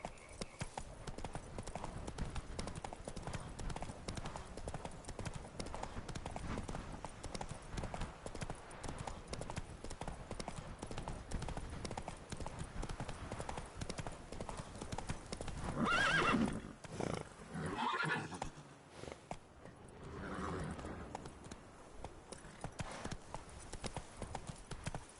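Roach the horse gallops with a continuous dense patter of hooves in The Witcher 3, then gives a loud neigh near the end before the running eases.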